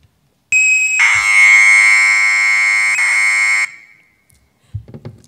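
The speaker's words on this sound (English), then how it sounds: "so this was real data actually written by a Commodore 64 some weeks ago in my lab in Vienna" Commodore 64 data tape played back through a stereo gives a loud, steady, shrill electronic tone that starts abruptly, holds for about three seconds with a pitch shift partway through, then cuts off. Faint handling noise follows.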